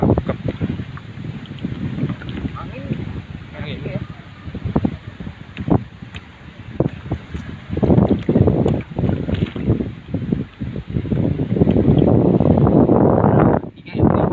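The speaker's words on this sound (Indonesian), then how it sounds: "Angin, angin ya." Wind buffets a microphone out on a lake from a small boat during net fishing, a steady rushing roar with gusts that swell louder toward the end, while people talk throughout.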